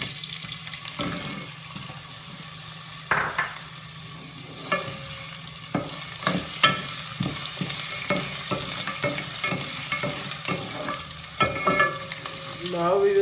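Diced potato frying in a pan with browned green chilies for sabudana khichdi, a steady sizzle broken by repeated sharp scrapes and clatters of a spoon stirring, with a brief burst of running tap water.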